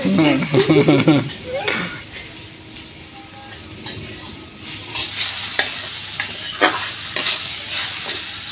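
Chopped okra stir-fried in a pan, with a sizzle and scraping, clattering stirring strokes that are loudest at the start, then quieter, with intermittent clinks and scrapes later. A voice is heard briefly near the start.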